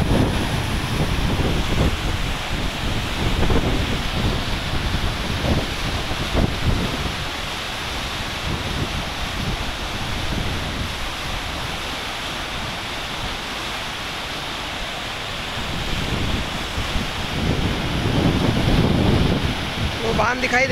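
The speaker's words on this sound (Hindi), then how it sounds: "बांध के ऊपर भी पानी बहुत कूद गया है।" The Shivna river in flood near Mandsaur, pouring over a dam as a continuous loud roar and rush of water, with heavy wind buffeting the microphone throughout and occasional voices nearby.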